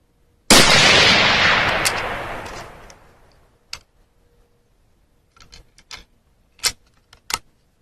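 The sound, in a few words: 6.5 Grendel rifle firing fire-forming brass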